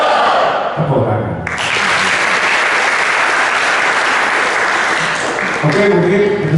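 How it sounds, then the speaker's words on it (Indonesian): An audience at an event applauds loudly and steadily for several seconds, preceded by a short bit of speech. "Tepuk tangan."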